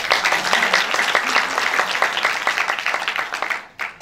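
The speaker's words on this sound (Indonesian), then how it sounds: "Tepuk tangan buat Tuhan kita dong." A church congregation at a live-streamed Sunday service claps together for God, a dense, rhythmic burst of many hands in near-unison beats that fades out just before the end.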